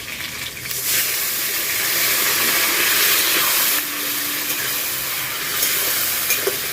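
Water poured over cumin paste and split green chillies in a hot pan, bursting into a loud, steady hiss and sizzle of steam that dips and then carries on, recorded close up.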